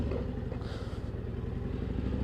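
A 2024 Harley-Davidson Road Glide motorcycle rolls past with a steady, throbbing low engine rumble that stays fairly even and moderately loud throughout, with no talk.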